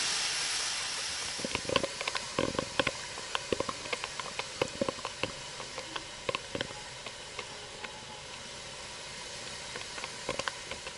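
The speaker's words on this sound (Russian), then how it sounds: "Так, друзья, клапан сработал." Steam hisses steadily from an autoclave pressure valve while canning home-made stewed meat, with scattered sharp crackles and spits popping irregularly over the hiss.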